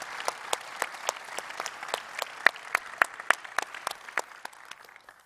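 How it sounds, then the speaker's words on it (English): Conference audience applauding guests and players, a steady patter of many hands with sharp, regular claps standing out near the front, moderately loud and gradually tapering, no talk over it. "There's an applause for our guests"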